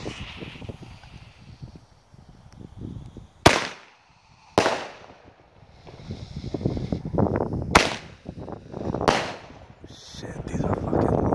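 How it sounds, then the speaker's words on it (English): Loud, sharp shots from a G-Force Roman candle firework, four cracking bursts spaced unevenly over several seconds, with voices talking and exclaiming between them outdoors. "It's a G-Force big ass Roman candle."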